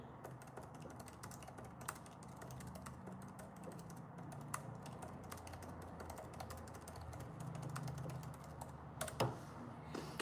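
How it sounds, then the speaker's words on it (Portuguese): Fingers typing a message on a computer keyboard, steady irregular clicks and taps close by but quiet, continuing for several seconds with no talk. "Deixa eu só escrever uma mensagem aqui."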